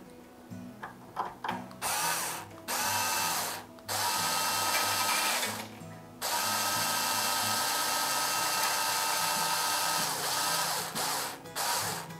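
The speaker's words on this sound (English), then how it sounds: "as I tighten the strings, I must be guiding the string along and pushing it down" Hozen guitar strings being wound tight, giving a steady close-up mechanical whirring with brief pauses and ratcheting clicks, loud and with no voices.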